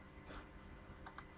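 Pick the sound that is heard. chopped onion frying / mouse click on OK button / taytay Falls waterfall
mouse click on OK button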